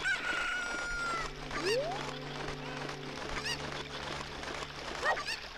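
Chicken from the video game Ocarina of Time, a rooster-like crow and a few clucks over steady background game sounds, moderate level with no talking.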